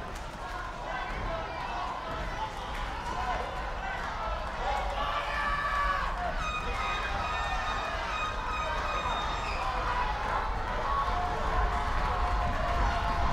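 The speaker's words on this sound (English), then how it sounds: "listen to this crowd come alive" Arena crowd at a professional wrestling show roaring and cheering steadily throughout, a dense wash of noise with a rising swell, with a commentator talking over it.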